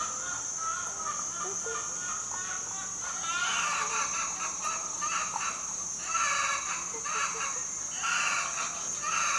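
Wild junglefowl and domestic chickens cluck and chatter in a series of short calls over a constant high-pitched insect drone outdoors.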